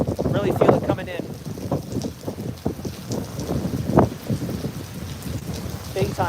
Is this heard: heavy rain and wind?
yes